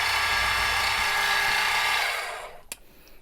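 A power drill works on a pick to cut a flat, a steady high whirring grind that runs for over two seconds, then winds down and stops, followed by a single small click.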